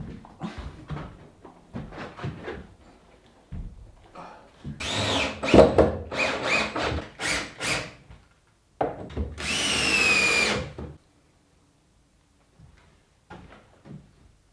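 A power router cuts a hinge mortise into a door edge during a budget glass micro house build: two loud whining bursts of a few seconds each, separated by quieter handling knocks and taps.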